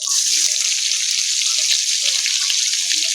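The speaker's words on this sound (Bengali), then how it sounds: "পেঁয়াজটা ভালো করে ভেজে নেব" Chopped onions fry in hot oil in a pan, a loud, continuous close sizzle with scattered small pops and crackles.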